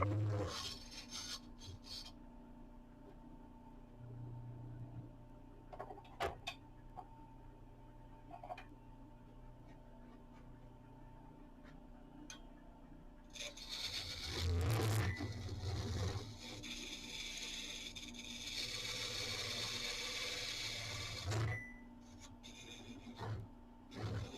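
Lathe tool scraping a recess into the bottom of a turned wood bowl for a chuck, a steady low motor hum beneath intermittent rasping cuts that swell louder midway, with occasional knocks.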